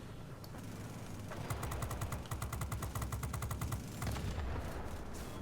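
Rapid bursts of cannon fire from an F-94D jet in the World of Warplanes game, a fast rhythmic stutter of shots over steady engine roar, with several sustained volleys.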